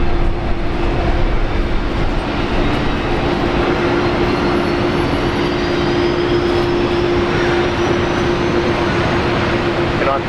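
A Korean Air airliner in its new livery at Brisbane Airport gives a loud, steady jet engine roar with a constant droning tone that persists the whole time, while a voice speaks briefly over it.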